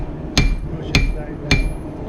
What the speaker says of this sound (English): When you guys are hammering, you want to make sure you hit nice and flat with the head of that hammer.